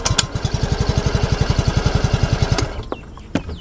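A Yamaha Ray ZR 125cc scooter starts silently and settles into a steady, close idle, its rapid regular exhaust pulses running for about two and a half seconds before the engine is cut and a few faint clicks follow.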